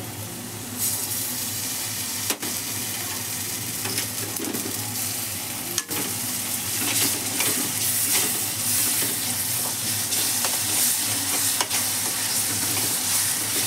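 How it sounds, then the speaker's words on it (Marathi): Homemade green masala paste sizzles steadily in a pan of gravy as it is stirred. Two sharp knocks of a utensil against the pan sound over the continuous frying hiss. "आता हिरवं वाटण टाकते. ग्रेव्ही हिरवं वाटण आमचं घरचं."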